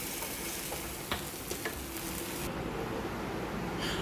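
Close steady frying hiss as spiced masala with salt is stirred in a pan, with a few scraping strokes and a light tick near the start, continuous throughout with no talking.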